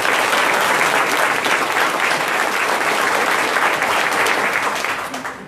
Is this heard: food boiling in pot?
no